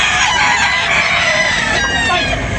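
Roosters crow at a chicken sale, a loud and close drawn-out call overlapping other crowing and clucking fowl, over steady background noise.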